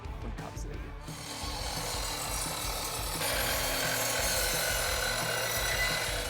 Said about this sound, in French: je vais choisir la scie à onglet coulissante